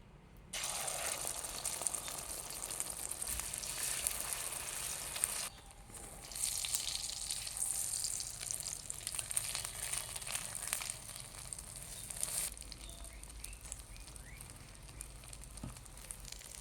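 Egg beaten with onion and green chilli frying in hot oil in a pan: a steady, bright crackling sizzle close by that briefly dips twice and then continues, with no talking.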